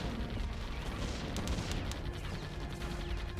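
Gun towers fire without pause in the Defense Grid tower-defence game: a dense, rumbling barrage of overlapping booms and cracks, loud and unbroken throughout.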